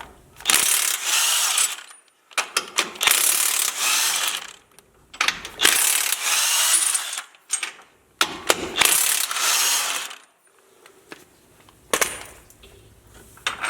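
A hand ratchet clicks rapidly in repeated bursts while 18 mm bolts are backed out of a Jeep JLU front end during a lift kit install, close and loud with short pauses between runs.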